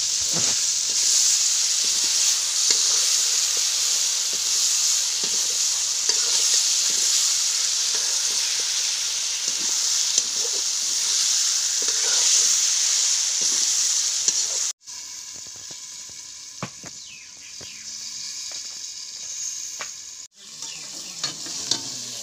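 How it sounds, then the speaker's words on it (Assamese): Pork pieces fry in a pan over a wood fire, giving a loud, continuous sizzle with scraping stirs. The sizzle drops and changes tone partway through as the pan is disturbed, and no one speaks. "প্ৰথমতে মাংসখিনি ভাজি লৈছোঁ।"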